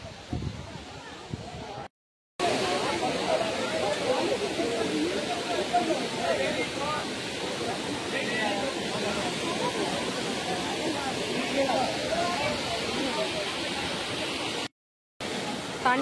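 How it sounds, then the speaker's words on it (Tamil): Waterfall in the Coimbatore area, at low summer flow, pours as a steady broadband rush that fills the whole clip, with one brief cutout near the start and another near the end. "இதுதான் ஃபால்ஸ், பார்த்துக்கோங்க."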